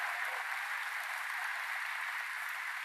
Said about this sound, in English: Let's give them another round of applause for their leadership.